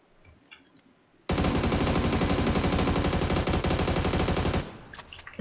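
Sustained automatic rifle fire from a light green-ammo (5.56) assault rifle in the battle royale game PUBG, a loud, dense rapid burst lasting about three seconds with no talk over it.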